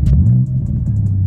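A car engine with an Akrapovič sport exhaust revs with a deep, raspy rumble and a brief rising growl, loud and close, with faint clicking ticks over the top.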